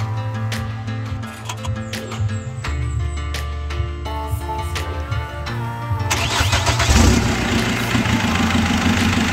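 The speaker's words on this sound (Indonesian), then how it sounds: "Nah, sekarang coba starter, bos." Chevrolet Captiva diesel in a workshop cranking and firing up, settling into a loud, rough idle that swells louder toward the end, with the engine close and no talk over it.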